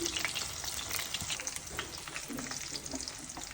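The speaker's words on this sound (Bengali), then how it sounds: "বড়াগুলো আমার ভাজা হয়ে গেছে একদম গরম গরম আমি তুলে নিচ্ছি" Pumpkin-leaf shrimp fritters fry in hot mustard oil, a busy close crackle and sizzle with scattered pops and light stirring, no voices.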